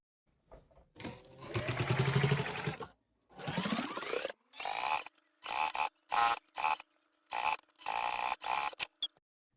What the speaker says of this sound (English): we'll go ahead and give that a press, and then it's time to top stitch.